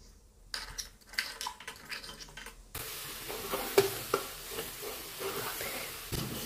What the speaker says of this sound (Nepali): दाल चामललाई चलाउँदै घिउमा भुट्ने।